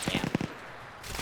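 An MG42 machine gun in a multiplayer war game rattles off a quick, choppy burst of several shots, then cuts to a short lull with faint background noise.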